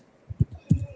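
A dog barks during an online video call, a few short muffled woofs and yips in quick succession, fairly close but compressed, ending in a sharper louder bark.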